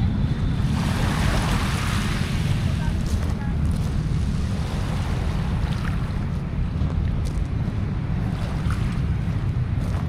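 Continuous heavy surf rolling and crashing on the dolomite pebble shore of Manila Bay, with a steady low roar and gusty wind buffeting the microphone throughout.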